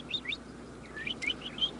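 Small bird chirping in quick, high, bright tweets, a handful of short notes scattered over a couple of seconds, close and fairly clear over a quiet indoor background.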